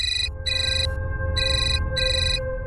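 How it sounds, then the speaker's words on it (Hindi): A telephone rings in repeated electronic tone bursts, four evenly spaced pulses with short gaps, loud and clear over a steady low hum. "फोन उठाओ और हाँ,"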